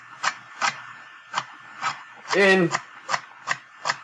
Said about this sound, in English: Just chop down your celery